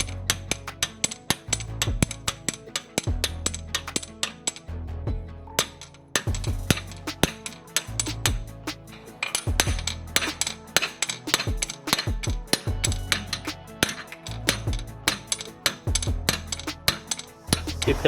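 Sharp metallic hammer strikes on an axle popper fork wedged against the driver side axle of a Mazdaspeed 3, a rapid irregular series of loud clanks with short pauses, close up.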